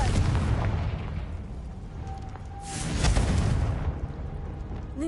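The Confringo blasting spell in a video game sets off heavy explosions: a deep rumbling boom, then a second louder burst of crackling debris, over a dense low roar with no talking.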